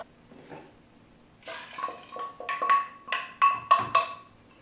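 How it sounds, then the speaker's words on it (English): Water poured into empty food cans to rinse them, likely cans of corn for taco soup, as a series of close, uneven splashes and gurgling pours that grow louder over several seconds, with no talking. "I'll take some of the water and kind of rinse out the other cans."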